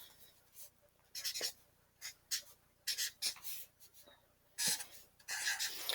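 A pencil scratches numbers onto paper during a math lesson, giving close, quiet strokes in short irregular bursts with brief pauses between them.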